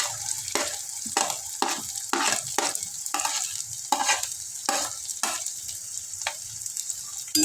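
Capsicum and carrot fry in a pan under a bright sizzle while a spatula scrapes and stirs in quick, regular strokes, close and fairly loud, with no talking.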